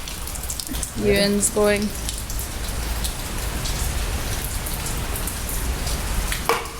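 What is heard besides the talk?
heavy rain downpour during a storm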